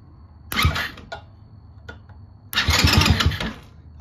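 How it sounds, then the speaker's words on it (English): A Tao Tao 110cc quad's engine is cranked by its starter in two bursts, a short grinding churn followed by a longer rhythmic cranking, close and fairly loud with no talk over it. "Okay, so we know it turns over."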